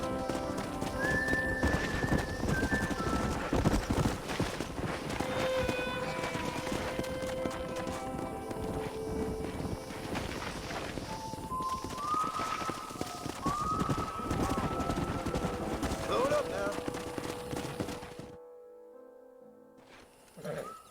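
Horses gallop in the Western video game Red Dead Redemption, with dense rhythmic hoofbeats and several high whinnies over a busy background, continuing for most of the stretch before dropping away to near silence at the end.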